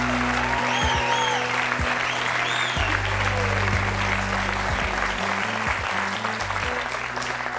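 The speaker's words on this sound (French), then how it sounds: "Je vous demande de l'applaudir." A studio audience on a French TV talk-show set claps steadily for a 12-year-old girl joining the set, over low sustained music notes, with dense applause continuing without break.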